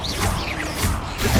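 The Confringo blasting spell in Hogwarts Legacy going off as a short burst of crashing, whooshing impacts, with several quick swishes and smashes packed into under two seconds.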